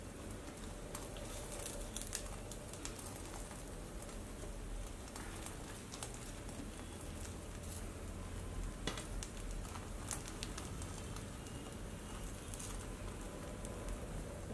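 Egg omelette with bread toasting in a pan gives a steady, quiet sizzle with soft crackling throughout, with no voices over it.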